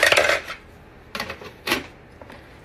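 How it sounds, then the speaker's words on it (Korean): A metal pot lid clatters shut in a home kitchen, a bright clink followed by two more short metallic taps, close and fairly quiet, with no talk. "냄비 뚜껑 닫으고요"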